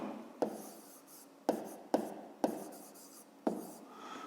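A pen scratches across paper while a maths exercise is written out, quiet scribbling strokes with several distinct taps as new lines begin, no talking.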